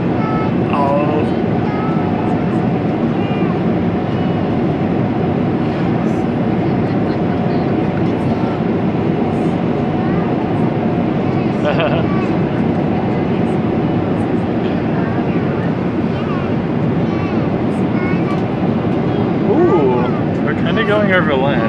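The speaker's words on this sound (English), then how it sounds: "Ooh, we're on a plane." Steady, loud cabin roar of a private jet in flight, a constant broadband hum and whoosh with an engine tone running throughout, while people talk over it intermittently.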